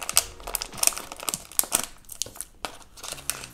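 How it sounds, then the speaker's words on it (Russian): Crinkling of a plastic surprise packet shaped like a diamond from an LOL Surprise toy, a run of sharp, close crackles and rustles in irregular bursts as the packet is handled. "Пакетик в виде бриллиантика."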